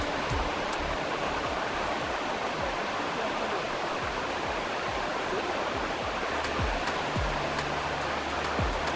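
Water rushes steadily over rocks in a constant, full hiss, close by, with occasional small splashes and no voices.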